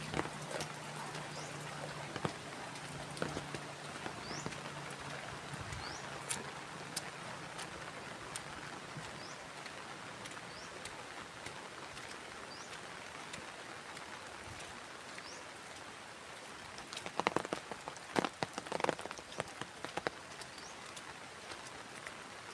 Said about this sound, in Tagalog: Umuulan pa rin